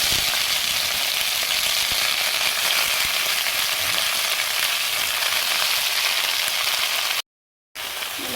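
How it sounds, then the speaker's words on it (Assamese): Grated radish frying in hot oil in a wok, a steady dense sizzle that holds loud and even for about seven seconds before cutting out briefly, then resuming. "কেৰাহীখনত তেলখিনি অলৰেডি গৰম হৈ গ'ল। গৰম হৈ যোৱাত মই এতিয়া দি দিছোঁ এইখিনি ডাইৰেক্টলি যিখিনি মূলা আছিলে সেইখিনি"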